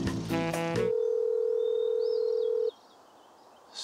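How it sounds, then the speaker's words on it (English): A telephone on an urgent call gives a ringing tone: one steady electronic tone holds for about two seconds after a brief rising chime, then cuts off to near silence. "Still ringing."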